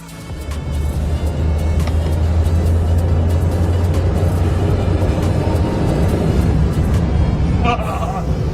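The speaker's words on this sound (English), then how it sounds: "a Bugatti Veyron owner steps up to challenge a Lamborghini Huracan in a straight-line drag race" In Dubai, a Bugatti Veyron and a Lamborghini Huracan drag race in a straight line, a loud, sustained low engine roar that holds steady for several seconds before a brief change near the end.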